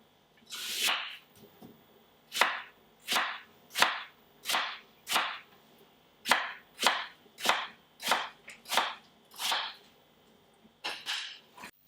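A knife chops a large regular apple on a board for a French apple cake, about a dozen crisp, evenly spaced thuds close by, with no one speaking.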